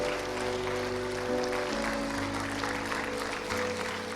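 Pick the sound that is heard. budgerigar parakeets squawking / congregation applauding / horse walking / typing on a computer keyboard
congregation applauding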